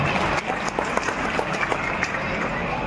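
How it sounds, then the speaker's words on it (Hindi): A crowd at a Hindi poetry recital (kavi sammelan) during the Pali Mahotsav festival applauds the arriving honoured guest, steady dense clapping throughout with a few sharper claps standing out. "उसके लिए भी बड़ा जोरदार ताली हो जाएगी आपसे।"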